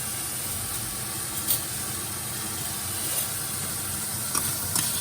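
Onions and garlic sizzling in a pan while being tossed around, a steady close hiss with a few brief scraping clinks on top.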